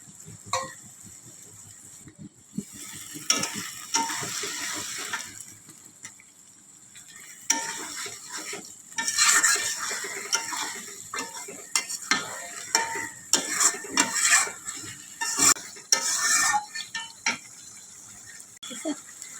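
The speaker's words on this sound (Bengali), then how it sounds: "ভালো করে মশলাগুলো কষানো হয়ে গেছে আলুর সাথে" Spice paste of chilli, cumin and turmeric powders sautéed with potatoes in a pan, with scraping stirs and utensil knocks over a soft sizzle, growing busier partway through.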